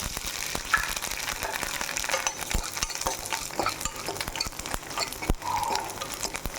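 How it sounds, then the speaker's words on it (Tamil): Cashews and raisins fry in hot fat in a pan for a sweet sago and wheat grape kheer, giving a steady close sizzle with bubbling crackle and occasional scraping stirs. "அதில் போட்டு பொரிச்சுக்கலாம்."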